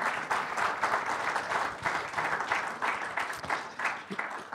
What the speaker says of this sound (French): vous pouvez applaudir nos débatteurs